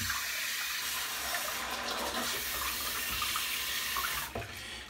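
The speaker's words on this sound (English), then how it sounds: "You just run them under the water really good." A tap runs steadily over a synthetic shaving brush at a sink, a close, continuous splashing hiss with a slight change near the end and no talking.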